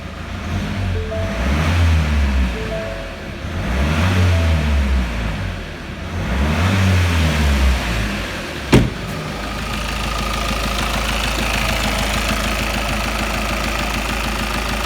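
A Ford Mondeo Mk5 2.0-litre diesel engine, just fitted with a new timing chain, revs up and down three times in rising, falling swells, then settles into a steady, rumbling idle.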